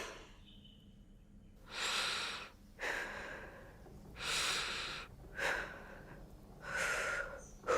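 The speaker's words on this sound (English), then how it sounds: "We stop, we think, and we breathe. Breathe." Video game character in The Walking Dead breathing to calm down, a series of slow, deep, audible breaths, inhales and exhales alternating at a steady pace, close and soft without talk.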